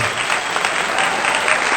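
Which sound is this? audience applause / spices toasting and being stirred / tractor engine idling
audience applause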